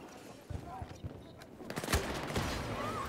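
Grenade launcher firing in a video game, sharp bursts and thumps scattered through a busy mix of battle noise, loudest hit near the middle, with a voice talking over the action.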